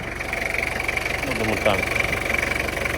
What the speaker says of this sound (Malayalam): എൻജിൻ പക്ക നീറ്റാണ്.